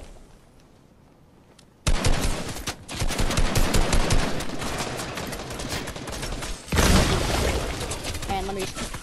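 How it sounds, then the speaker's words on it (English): Gunfire in Fortnite kicks in abruptly after a quiet opening, with rapid automatic bursts and fast repeated shots rattling continuously at close range, then a second loud volley near the end. "I'm being shot at"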